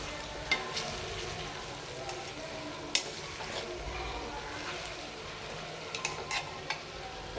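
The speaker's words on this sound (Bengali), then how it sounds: "এই দেখেন আমার রেজালার মাংস এখন ওই যে কষাইতাছি" Fatty beef for rezala being fried and stirred in oil, a low steady sizzle with occasional sharp clicks and scrapes of the spoon against the pan.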